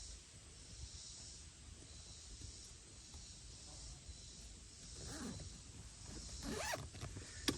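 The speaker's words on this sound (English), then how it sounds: "how easy it is just to come in here and zip it up" Zipper pulled closed on Tecoom car seat covers in a vehicle, a quiet close-up rasp rising over a few seconds toward the end against faint background hiss.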